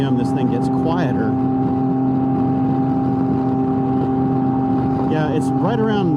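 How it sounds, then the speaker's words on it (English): A Can-Am Ryker three-wheeler's engine holds a steady, droning high-RPM tone with a faint rasp, while someone talks over it on and off. "I'm gonna check my RPM because right around a certain RPM this thing gets quieter."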